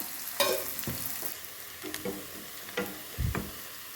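Onions and curry leaves fry in a pan for a curd dish, a soft sizzle broken by several stirring scrapes and clacks of a spoon, with no voices.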